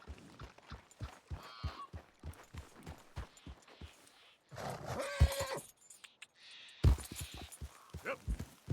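A horse in Red Dead Redemption 2 whinnies and clip-clops at a steady pace, hooves thudding rhythmically up close, with one or two louder bursts partway through.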